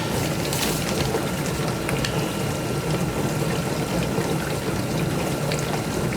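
A dishwasher taking in water during its fill test after installation, a steady continuous rush of running liquid that stays even and unbroken throughout, close by, with no talk.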